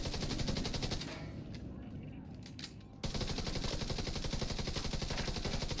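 Rapid automatic gunfire from sprint shooting in the video game The Division 2, a dense continuous rattle of shots that softens briefly in the middle before resuming at full loudness, with no talking.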